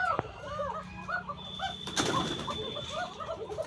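Native Koka pigeons in a loft in Tanore, Rajshahi, give soft repeated rolling coos, several birds overlapping at close range, with a couple of sharp wing-flaps or knocks.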